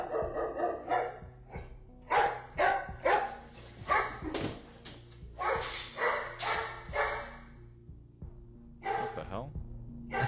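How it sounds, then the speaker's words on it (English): A schnauzer barks repeatedly indoors in sharp bursts, loud and close, keeping an uneven rhythm with brief pauses, while a voice talks under and between the barks. "the dog starts to bark at something we can't see"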